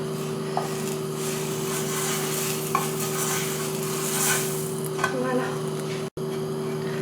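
Butter sizzles in a frying pan with sliced sandwich bread, a steady soft crackle under a constant hum, with occasional light scraping and stirring clicks and a brief cut near the end.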